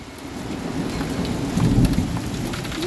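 A thunder and hail storm hits in Southern California with a steady loud wash of pelting precipitation. A low rumble of thunder swells briefly in the middle.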